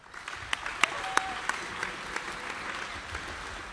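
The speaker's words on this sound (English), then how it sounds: "Round of applause for Jacob Weeks and Luke Griffiths." Spectators at a National Badminton League match applaud the University of Nottingham players, a modest, somewhat distant patter of clapping with a few sharper individual claps and some whoops.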